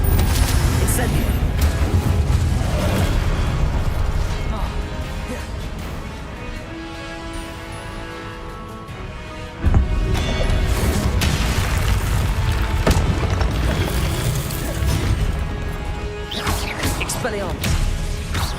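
Incendio fire spell cast in Hogwarts Legacy amid a spell-slinging fight, heavy whooshing blasts and impact booms over a music bed, with a sharp surge of sound partway through and voices speaking at times.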